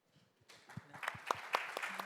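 Conference audience breaks into scattered applause that builds from a few faint claps into steady, moderately quiet clapping by many hands in a hall.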